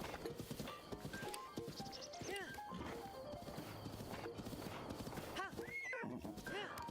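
Horses in a retro video game whinny and neigh repeatedly over a steady clip-clop of hooves, the calls rising in bright squeals throughout, while a person talks over the game sounds.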